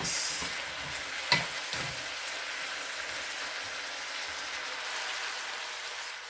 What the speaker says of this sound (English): sweet and sour pork. Let's give it a good mix.